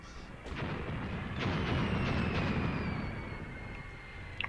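Mortar fire rumbles in Graviteam Tactics during the Kharkov 1942 battle, a dense sustained roar of distant explosions with a few sharper reports rising and fading over several seconds.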